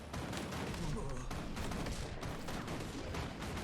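Rapid rifle gunfire in the Guild Wars 2 video game, a dense, steady barrage of shots mixed with game effects and background sound throughout.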